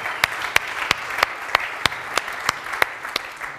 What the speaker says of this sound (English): I would like you to give an applause for the new brand